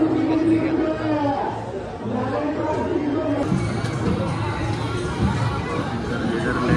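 A dense crowd queues at a temple on Mahashivratri, with steady loud chatter and babble of many voices close around, and nearby people talking over it.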